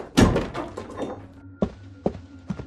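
A bedroom door is shut with a heavy thunk, followed by a few sharper metallic clunks and clicks as it is locked, set in a narrated horror story from Antique, with no talking over it.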